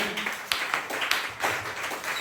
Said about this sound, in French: Applaudissez un peu pour le Seigneur Jésus.